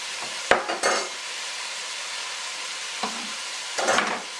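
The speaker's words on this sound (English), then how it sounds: "Give that a quick stir" Corn soup gets stirred in a pot on low heat. A spoon scrapes and swishes in a few short bursts, with a quiet bubbling simmer underneath and no voices.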